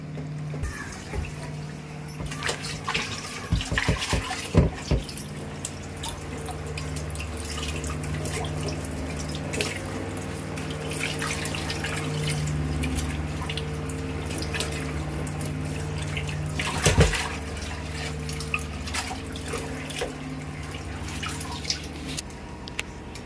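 Mutton intestines washed under running tap water in a kitchen: steady splashing and trickling throughout, with occasional clunks and a sharper knock midway, no talking.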